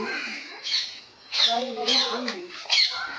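A black-necked peacock at a zoo squawking, several harsh, piercing calls in short bursts, close and loud, with a person talking alongside.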